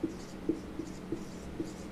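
Marking on a board during a classroom lesson, five quick strokes taps out a light, uneven rhythm up close, with no voice over it.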